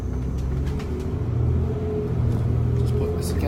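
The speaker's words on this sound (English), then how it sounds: "I'm on the 144, which is a First Midland Red. Today it's a double decker." Steady low engine rumble inside a First Midland Red double-decker bus on route 144 between Bromsgrove and Worcester, continuous cabin drone with faint rattles throughout.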